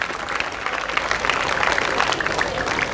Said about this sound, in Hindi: उबैद के लिए तालियां होनी चाहिए भाई